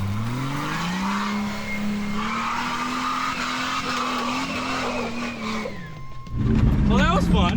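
A Jeep TJ's exhaust runs through MagnaFlow catalytic converters and a small six-inch MagnaFlow shorty muffler, giving a steady engine drone with tire skidding and squeal, loud and close, before a sudden shift near the end.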